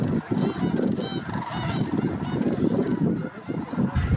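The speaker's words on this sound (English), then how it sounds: "I'm getting much better views of all the snow geese this time around" A dense flock of snow geese honks continuously at a wildlife management area in New Mexico, with many overlapping calls forming a loud, busy chorus.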